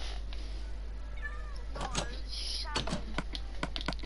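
A cat gives a few short, faint meows in a quiet room, partly buried under background hiss and a person speaking nearby.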